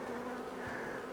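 Honey bees hum in a dense, steady drone close by at an open hive during a honey harvest and mite treatment, the buzzing continuous and unbroken with no voices.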